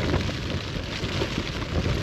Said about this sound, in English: 40 mile an hour wind plus.